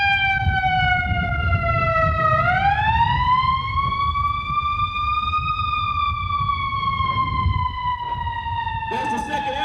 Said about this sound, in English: Just like this ambulance is going by.